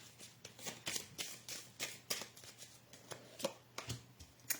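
Oracle cards are shuffled by hand, giving soft, irregular papery riffles and taps at close range in a quiet room. No one speaks.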